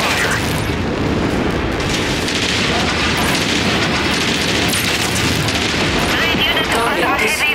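Heavy weapons fire and explosions hitting mechs in MechWarrior 5 Mercenaries, a dense, loud, continuous roar of blasts and bursts, with a voice talking over it.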